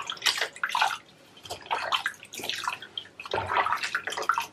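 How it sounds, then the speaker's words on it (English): Water splashes and runs in a bathtub while soap is rinsed off a hairless Sphynx cat, coming in several uneven bursts of pouring and sloshing close by, with no talking. "I'm just going to rinse some of the soap off of him."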